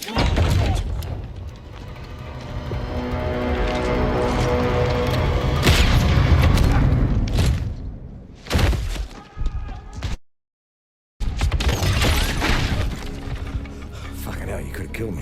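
Battle in the shooter game Battlefield 1, with loud, dense booming explosions and rolling gunfire, heavy rumbling blasts, a brief sudden silence, then the combat noise resuming, with shouting voices mixed in.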